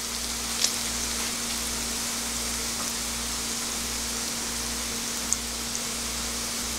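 Makchang, beef intestine, sizzling on a grill, a steady, even hiss of frying fat with a low electrical hum beneath and a couple of faint pops, close and continuous without any talking.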